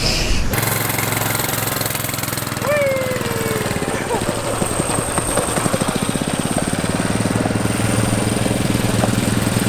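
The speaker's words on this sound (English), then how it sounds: "Mini bike that should have an 80cc motor on it." Small 80cc mini bike engine running loud and close, a steady buzzing drone that rises in pitch as it revs, with no talk over it.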